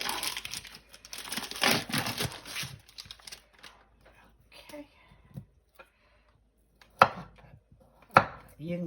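A knife cutting food on a board for chicken bog, with a burst of rapid chopping, then quieter stretches broken by two sharp isolated strikes, with faint voices in the background.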